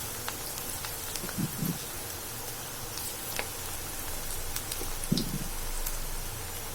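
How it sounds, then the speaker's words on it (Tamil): Spinach bonda batter fries in hot oil over a medium flame, giving a soft, steady crackle and hiss with a few louder pops, faint and close with no talk. "இப்போ எண்ணெய் சூடான பிற்பாடு மிதமான தீயில போடுங்க. இந்த மாதிரி ஒவ்வொன்றா போட்டு எடுத்துக்கணும்."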